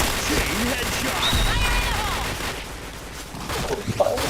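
Gunfire fills a video game shooter as rapid bursts and shots pile up under excited talking and game chatter, loud and busy throughout.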